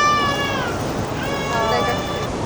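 Cat meows play from the famous giant outdoor screen in Shinjuku, Tokyo, a series of drawn-out mewing calls over steady street crowd noise and nearby chatter.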